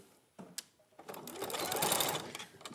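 A sewing machine stitches over a folded fabric edge, starting with a few faint clicks before a steady, rising mechanical whir that runs to the end, close and moderately loud.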